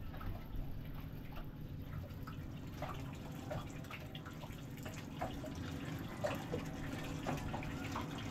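Fluid leaking heavily from an oil seal of the wrong size, splashing and dripping steadily like running tap water, a continuous close watery patter with scattered drips throughout.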